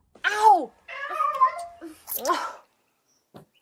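A pet cat meows several times in quick succession, with rising and falling calls that are close and clear, then a short faint sound trails off after a pause.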